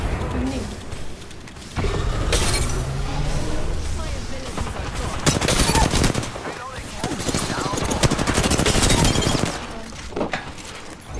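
Dense, loud video-game gunfire with rapid machine-gun bursts and constant rattling shots for several seconds, over a noisy combat background.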